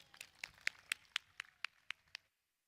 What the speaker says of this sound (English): Let's give a huge round of applause for Ty Sims.